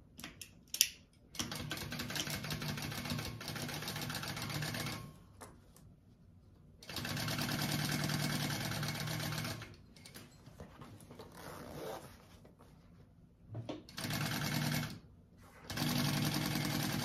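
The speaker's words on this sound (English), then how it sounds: "then you're going to sew that at a one fourth inch seam allowance" Sewing machine stitching a quarter-inch seam on fabric for a zippered bag, several bursts of fast, even mechanical whirring with short pauses between them, close and clear, with no talking.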